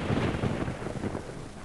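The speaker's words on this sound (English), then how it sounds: "Was there two thunder sound effects at this time?" Thunder from the Doom 64 video game rumbles as a steady, dense low roar with rain-like hiss, continuous and fairly loud throughout with no talk.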